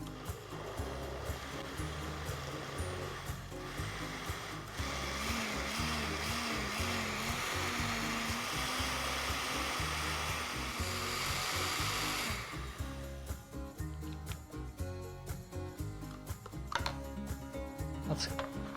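Blender pureeing a cooked-down tomato mixture, a steady whirring roar that runs for about twelve seconds before cutting off, followed by quieter kitchen clatter and background music.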